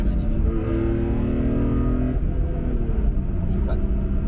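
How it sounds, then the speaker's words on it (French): A BMW E46 M3 CSL's engine roars with a deep, raspy drone while driving on the road, its pitch shifting midway as if through a gear change, loud and continuous throughout. "vous l'entendez ce moteur ? C'est caverneux, c'est rauque ça."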